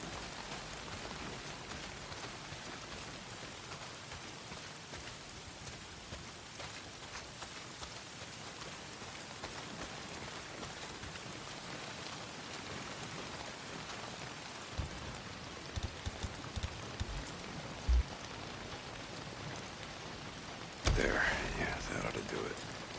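Heavy rain in the Days Gone video game, a dense continuous downpour with a few sharp louder hits near the end.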